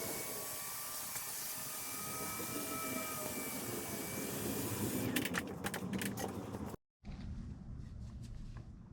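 A car lift lowering a 2025 Audi RS5 in a shop produces a steady loud whine and rush of air, followed by clicks and a brief cutoff before a quieter hum resumes.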